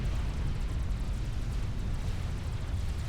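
A battlefield explosion in the real-time strategy game Supreme Commander, rendered as a dense, sustained low rumble that holds steady at fairly loud volume with no voices over it.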